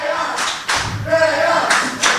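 A crowd claps at a live wrestling show, with bursts of applause rising and falling under a commentator's voice.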